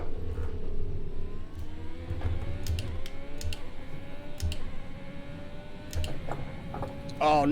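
An F1 car engine in a racing video game at Sochi whines steadily in the background, with intermittent keyboard clicks and taps over it and faint talk.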